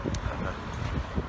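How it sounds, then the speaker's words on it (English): Blustery wind buffets the microphone outside Rodney Parade stadium before an FA Cup match, a dull rumbling rush with a few gusty swells and no voices. "It's a bit windy."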